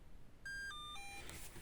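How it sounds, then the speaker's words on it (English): A Land Rover Freelander key fob programmer gives a short run of faint electronic beeps, a few quick tones stepping downward in pitch over about a second, in an otherwise quiet room. "And now we count 2 green beeps to say we've got 2 keys programmed."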